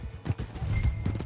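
A horse's hooves clip-clop in Red Dead Redemption 2, a quick run of close, thudding hoofbeats over roughly a second, with a faint breathy whinny-like sound mixed in and no talk.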